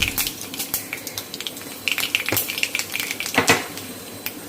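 Small mustard seeds crackle and pop in hot oil alongside already-fried peanuts for a masala dosa filling, a rapid irregular spatter of sharp ticks and sizzle with occasional utensil clinks, close and fairly loud.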